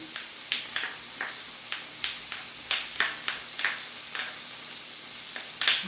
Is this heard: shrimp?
yes